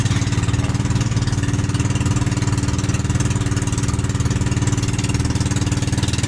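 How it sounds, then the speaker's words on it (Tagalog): A motorboat engine drones loud and close while the boat crosses a calm sea toward Occidental, a steady, unbroken mechanical hum that holds throughout with no other sounds. "Rinig nyo ang umong ng motor yan, nakasakay kami sa kwansa lang sa"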